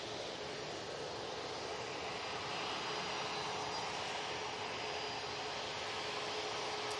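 A Challenger 850 business jet departing Manchester Airport on its way to Munich, its engines a broad, continuous roar heard from a distance, holding steady and swelling slightly toward the end.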